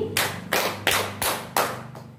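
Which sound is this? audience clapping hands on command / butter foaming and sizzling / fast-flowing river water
audience clapping hands on command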